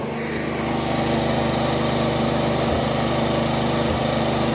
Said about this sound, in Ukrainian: На обкатки мотор, то так фиркає він трохи.